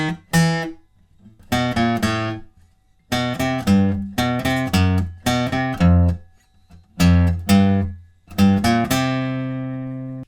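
A guitar riff picked on the 6th and 5th strings, with single low notes played in short rhythmic groups separated by brief gaps and a final note left ringing. The playing is clear and close, with no talking.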